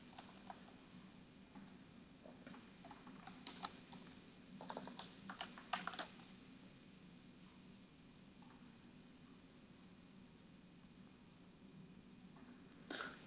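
Computer keyboard typing while entering a login alias for a Salesforce developer org, quiet irregular bursts of keystrokes clustered in the first six seconds, then near silence with a few faint taps at the end.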